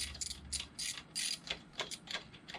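A ratchet snugs down a bolt on a greenhouse wind brace, giving quiet, rapid bursts of close-up clicking in an uneven rhythm, with no talk.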